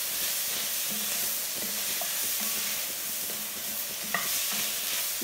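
Peppers and vegetables sizzle in olive oil in a pan while a flat-ended wooden spoon stirs and scrapes, giving a steady close frying hiss with soft scraping strokes and an occasional light clink.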